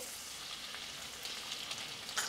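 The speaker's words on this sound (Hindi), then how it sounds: "लहसुन को हल्का सा सुनहरी होने तक हम फ्राई करेंगे" Steady, bright sizzling of finely chopped garlic frying in hot oil until golden, continuous and close, with occasional small crackles and no voices.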